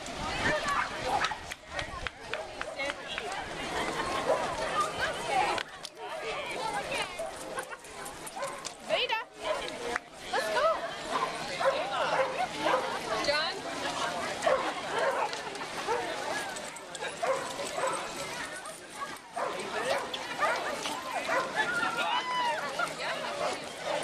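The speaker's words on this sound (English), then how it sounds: "Dogs everywhere." Dogs bark, yip and whimper through a crowded dog swim at a park pool, close and frequent, with people talking and calling over the busy, splashy din.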